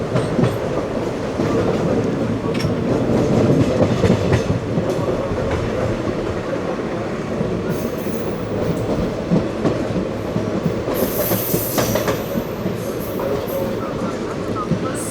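A passenger train in Kerala runs along the rails as it approaches the next station, a loud, steady rumble with rhythmic wheel clatter heard from inside the coach and a faint squeal near the end.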